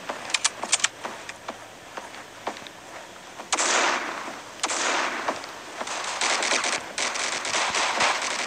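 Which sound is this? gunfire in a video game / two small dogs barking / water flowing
gunfire in a video game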